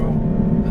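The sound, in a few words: Aston Martin V12 Vantage S engine driving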